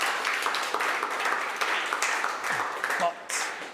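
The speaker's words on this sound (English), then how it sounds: "A round of applause for them." Applause at an out-of-home advertising awards ceremony, a moderate crowd clapping steadily at some distance before thinning out near the end, with faint murmurs mixed in.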